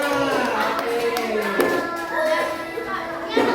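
Children in a classroom clap their hands in a loose, uneven patter while a voice talks over them and young voices chatter.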